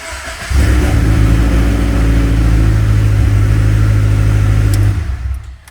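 A Subaru BRZ / Scion FR-S engine cranks and catches, then idles loud and close with a steady low rumble for several seconds before being switched off and fading away.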